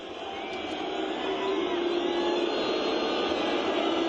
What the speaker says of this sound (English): Crowd already making his presence felt.